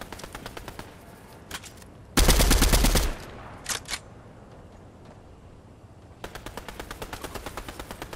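Gunfire in the Fortnite video game: fast, evenly spaced rattling bursts at the start and end, with a loud heavy blast in between followed by a couple of sharp single shots.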